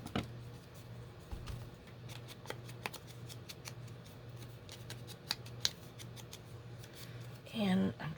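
Scissors snipping paper for a craft tag, with a run of faint, quick clicks and cuts over a low steady hum, closing with a brief rustle.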